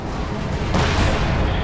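A single artillery gun fires in the World War II strategy game Company of Heroes 2, a sudden broad boom that cuts through dense battle noise and rumbles on afterward.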